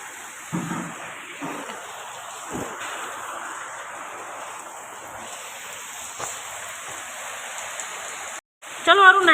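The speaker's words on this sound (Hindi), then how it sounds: "ये देखिए बहुत तेज वाली बारिश हो रही है।" Heavy rain pours down in a steady, dense wash of noise that carries on throughout, with a few brief louder bumps and a short dropout near the end.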